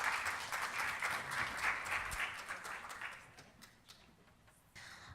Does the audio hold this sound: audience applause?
yes